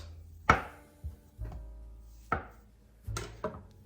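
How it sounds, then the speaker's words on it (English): A knife cuts soft canned cinnamon rolls into quarters on a board, giving five or six sharp, separate chopping knocks with short pauses between, close and clear with no talk. "Cut it into quarters."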